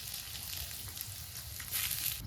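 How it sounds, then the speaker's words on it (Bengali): Chopped onions go into hot mustard oil in a wok, giving a soft, continuous sizzle and crackle that swells briefly near the end. "গরম তেলে আগে পেঁয়াজ কুচিগুলো দিলাম"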